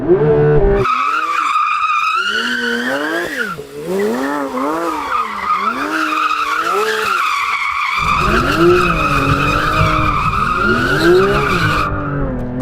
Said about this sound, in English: So it's got this feature where you can clutch kick it, so you pull in both pedals, floor it.